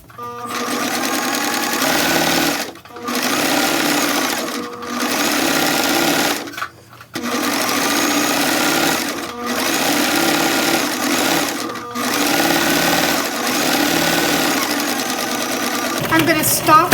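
Stitching an exposed zipper on a ruched dress, a sewing machine runs loud and close in several bursts of two to three seconds each, separated by short pauses.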